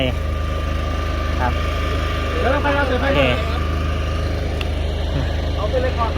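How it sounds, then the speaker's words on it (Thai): A generator engine runs at a steady idle, a constant low mechanical drone with vibration filling the background while someone speaks briefly over it. "เครื่องปั่นไฟ"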